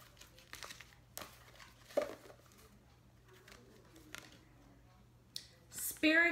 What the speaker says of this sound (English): pull one of these Isis cards from the Oracle deck to tie everything together